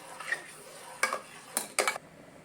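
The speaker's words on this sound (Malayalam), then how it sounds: "ഇനി നമുക്ക് കറി നന്നായിട്ടൊന്ന് ഇളക്കി ചൂടാക്കി എടുക്കാം" Stirring a Kerala-style curry in a pot over heat: three or four short, bright scraping clinks of a spoon against the pot, spaced irregularly, close and alone against a soft background hiss.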